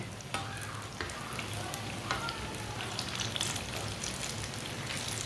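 Aubergine patties fry in a pan on a low-flame stove, a close, steady sizzle and crackle with scattered pops and faint stirring noises throughout.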